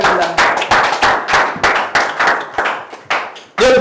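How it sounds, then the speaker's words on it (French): A church congregation claps together in a steady, brisk rhythm of about two to three claps a second. The sound is loud and close, with a voice briefly at the very end. "Applaudissez l'Éternel."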